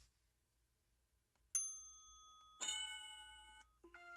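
A studio bell sound plays from computer speakers, a few bright chiming dings and tones, faint and thin at a low level, with no talking over it.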